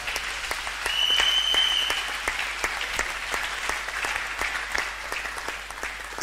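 A church congregation at a Sunday service breaks into sustained applause, dense clapping filling the space steadily for several seconds, with a faint high tone briefly sounding above it.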